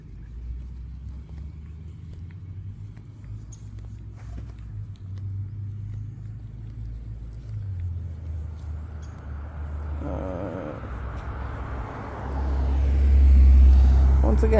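Road traffic on a morning walk with a dog, cars passing at a modest distance, the last one building to a louder low rumble as it approaches near the end.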